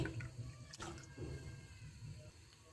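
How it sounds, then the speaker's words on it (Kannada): Tamarind juice is poured into a dish, a short soft liquid splash and trickle heard close by, fairly quiet and without speech. "ಹುಣಸೆ ರಸನ ಹಾಕ್ತಾ ಇದ್ದೀನಿ"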